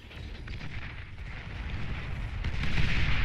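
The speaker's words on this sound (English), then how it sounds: "This flak is probably going to shoot down the bombers very quickly." Flak guns firing at bombers in the real-time strategy game Beyond All Reason, a dense continuous rumble of rapid booms that builds louder toward the end, with no talk.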